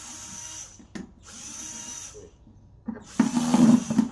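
A power drill bores holes into a food waste compost bin in short bursts separated by brief pauses, with the final burst the loudest and longest.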